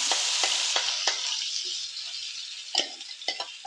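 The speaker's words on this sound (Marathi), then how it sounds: "आपला इथे आता मसाला छानपैकी तेलामध्ये भाजत आहे" Spice masala fries in hot oil in a wok, a bright crackling sizzle with a series of sharp spatula scrapes and knocks against the metal, fairly close and without speech.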